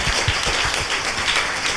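Applause from a studio audience on a Korean talk show, a dense patter of hand claps with a few sharper, closer claps standing out, steady at moderate loudness.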